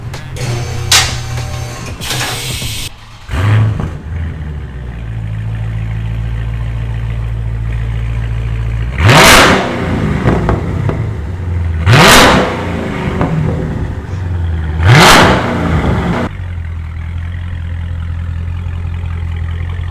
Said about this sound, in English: So let's bring it down and fire it up.